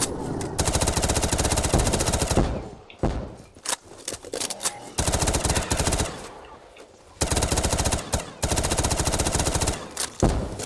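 Rapid automatic gunfire from Call of Duty Black Ops 3 zombies on the Desert Arena custom map, loud sustained bursts broken by short pauses and a few single shots.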